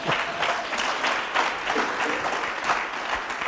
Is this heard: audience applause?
yes